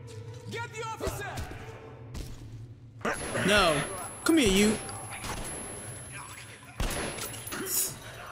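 Gunfire from the video game Metro Last Light, a few sharp bursts of shots mixed with game effects, heard beneath frequent talking and in-game voices.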